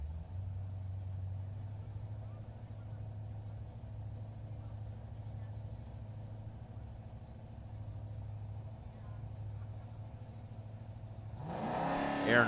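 A Chevy Nova drag car at a drag racing track, a low steady engine rumble held under a commentator's voice, then a sudden loud roar of revving near the end.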